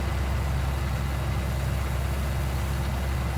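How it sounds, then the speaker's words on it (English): A steady, low engine drone from a tractor working under load in the Farming Simulator 19 video game, running continuously with a deep rumble and no talking. "It clearly needs to have the engine running, which technically it should do, and you can hear the load on it."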